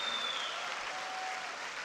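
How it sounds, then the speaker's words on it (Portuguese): A church congregation claps during a sermon, a dense, even wash of applause from many hands that holds steady throughout, with no voices. "As irmãs estão aplaudindo"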